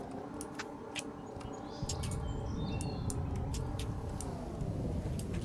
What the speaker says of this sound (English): You can hear some birds chirping.